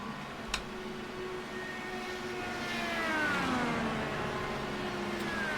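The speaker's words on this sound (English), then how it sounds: "That sounds like a car that's coming down pit road" Race car coming down pit road in iRacing during the Indianapolis 500, a steady engine drone with shifting whining tones that swell and rise in pitch as it draws nearer, with no voices.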